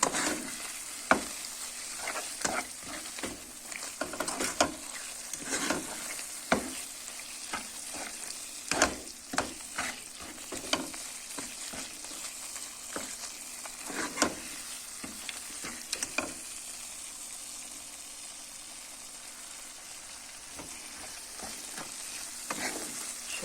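Helva cooking in a pan as crushed walnuts are poured in and stirred, giving soft continuous sizzling with repeated scraping stirs close by, no talking.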